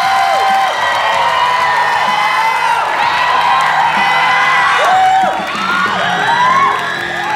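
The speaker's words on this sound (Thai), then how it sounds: "ขอเสียงปรบมือแสดงความยินดีกับดิวอีกครั้งหนึ่งค่ะ" A studio audience at the Thai dance weight-loss competition show Dance Your Fat Off, Season 3, cheers loudly for Dew, with high whoops and shouts rising over a dense, steady crowd roar that lasts the whole stretch.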